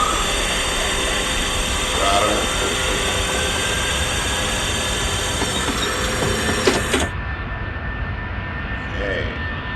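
Airbus A310 landing gear lowering in a flight simulator game, a loud steady mechanical hum and whine with a broad rushing drone, a brief clunk near the end and a sudden drop in the high hiss.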